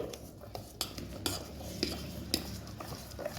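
Appam batter being stirred with salt in a bowl, a spoon scraping and clinking against the sides in irregular taps, close by and moderately quiet, with no talk.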